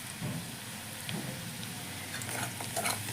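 Chopped onion fries in a pan for a lentil dal made with hilsa fish head, a soft, steady sizzle with faint crackles and occasional stirring, quiet and without speech.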